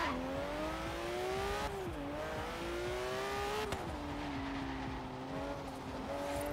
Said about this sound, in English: Hear the engine roar.